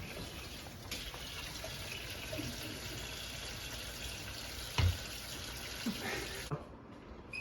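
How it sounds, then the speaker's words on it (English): Running water from a kitchen tap pours steadily while hands are washed beneath it, a continuous broadband gush with a few small splashes and knocks before the flow cuts off near the end. "first things first in the kitchen, always gotta wash your hands"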